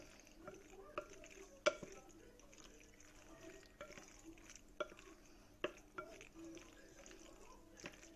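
Pasta is stirred through sauce in a pot for a shark makarouna, giving soft wet squelches and occasional clinks of the spoon against the pot, faint and close, while someone talks over it.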